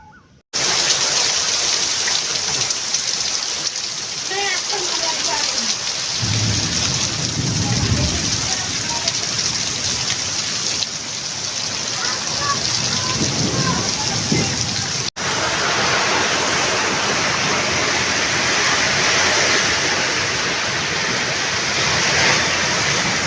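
Heavy rain pours steadily on a village, a continuous loud hiss and patter of drops on surfaces lasting throughout, with some lower rumbling thuds partway through and no clear talking.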